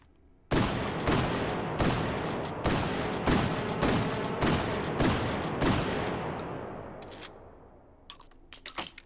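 Shotgun blasts in the VR game Hot Dogs, Horseshoes & Hand Grenades, fired unsuppressed: about eight loud, booming shots at a steady pace with long ringing tails, followed by a few quieter mechanical clicks and clacks.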